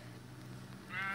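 A Minecraft sheep gives a single short bleat near the end, quiet, over a faint low hum of game ambience.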